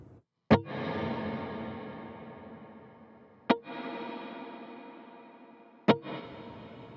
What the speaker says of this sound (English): a lower mix reverb with a bigger decay